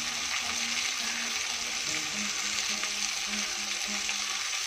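Spinach and spices with chili powder frying in a pan over medium heat, a steady loud sizzle that runs throughout with faint stirring scrapes underneath and no voices.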